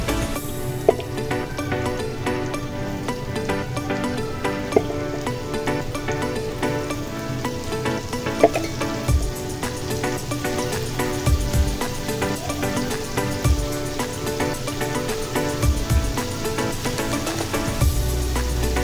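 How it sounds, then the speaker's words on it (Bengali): Chicken skewers frying in hot oil over high heat give a loud, steady sizzle that runs unbroken throughout, with no talking. "আমি 2-3 মিনিট হাই হিটে ফ্রাই করার পরে আমি একটু ঘুরিয়ে নিব"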